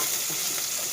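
Finely chopped onion sautéing in a pan for a potato curry, a dense, steady sizzle and frying crackle with soft stirring, close and continuous, no voices.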